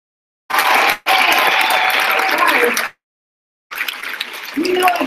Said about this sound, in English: Would everybody give applause to the school that hosts the conference?